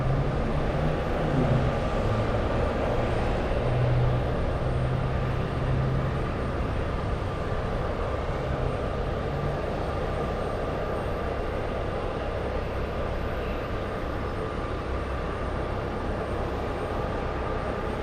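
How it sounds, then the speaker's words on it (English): An Etihad Boeing 787 takes off at Boston Logan airport with a loud, sustained jet engine roar that rumbles steadily and evenly throughout, heard from a distance outdoors. "We have the 787 taking off. There you go. Etihad flying back to Dubai."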